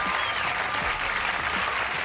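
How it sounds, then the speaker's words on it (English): Dense audience applause at a comedy show, steady and loud throughout with no pauses, a full room clapping together without any voices breaking through. "That's way too much applause, really."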